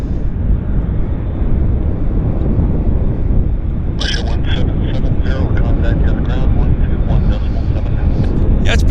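A Q400 turboprop at Vancouver Airport with a continuous broad engine roar at a moderate distance, and people talking faintly over it in the second half.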